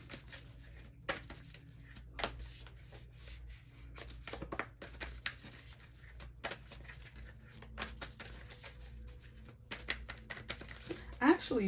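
Tarot cards are handled and shuffled throughout, with soft papery riffles, taps and slides recurring irregularly at low level, close up, while a person talks over them.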